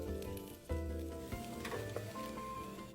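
Prawns deep-fry in hot oil, giving a steady crackling sizzle with a few sharper pops and clinks, close and without any talking.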